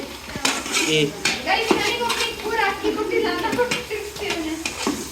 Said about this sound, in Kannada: ಒಂದು 3/4 kg ಆನಿಯನ್ ಹಾಕಿ ತಿರುಗಿಸ್ತಿದ್ದಾನೆ